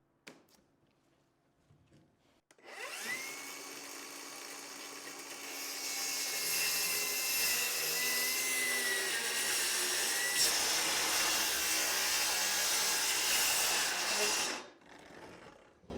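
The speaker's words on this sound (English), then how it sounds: "let's rip our plywood now" A saw rips through plywood in an old farmhouse, a loud, steady cutting roar that starts after a brief quiet, runs unbroken for about twelve seconds, then spins down.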